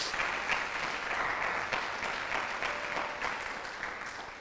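Applause from a church congregation, continuous and fairly dense for several seconds, tapering slightly toward the end, with no speech over it.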